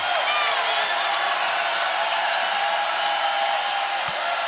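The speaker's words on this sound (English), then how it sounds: "And here comes the Coliseum crowd again" Coliseum crowd at an ACC women's basketball game between North Carolina and Virginia Tech roars with steady cheering and scattered whoops, filling the arena at a sustained level while a commentator talks over it.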